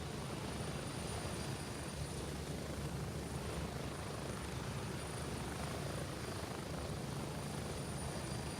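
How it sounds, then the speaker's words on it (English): A helicopter in the shooter game Deadzone Rogue gives a constant low rotor thrum and engine drone, steady and unbroken, with no voices over it. "I'm taking the helicopter"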